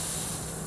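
Propane hissing steadily as an RV gas line is bled after fitting a new regulator nut assembly, a continuous close broadband spray of gas that holds level through the moment.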